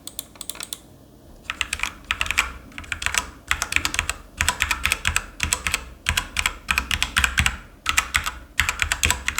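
Rapid typing on a backlit computer keyboard in quick bursts with short pauses between them, crisp clicky keystrokes, close and fairly loud, with no voices.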